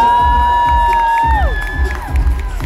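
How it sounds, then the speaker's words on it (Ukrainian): A crowd cheers and shouts loudly with continuous noisy applause, while a sustained tone slides downward over the top. "оплески зараз Олегу"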